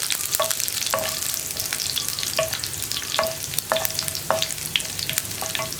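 Sliced onions frying in oil with mustard seeds for a koottucurry make a constant close sizzle, punctuated by regular scraping taps of a spoon stirring the pan.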